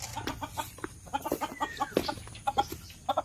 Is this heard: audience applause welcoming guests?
no